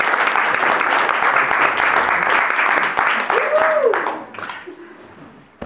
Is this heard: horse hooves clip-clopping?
no